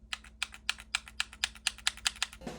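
Original Nintendo Switch controller joysticks clicked in a quick steady run of about a dozen sharp, close clicks, heard alone with no talking.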